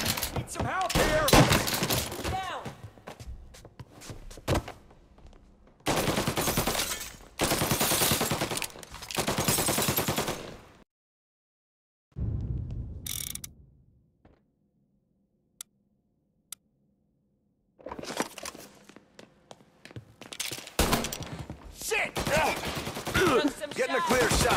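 Gunfire bursts in a Mafia Definitive Edition shootout, dense volleys of rapid shots in long loud stretches, broken by a silent gap and a few isolated clicks before the firing resumes, with shouted voices mixed in.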